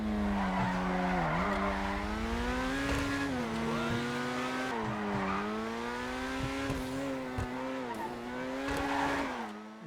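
Tyres of a Dewbauchee Champion sports car squealing in a long sideways slide in GTA, a loud continuous wavering screech over steady engine drone, pitch sagging and rising as the drift holds.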